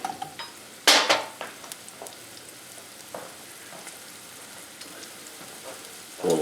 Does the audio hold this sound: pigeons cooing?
no